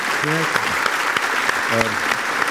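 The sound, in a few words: studio audience applause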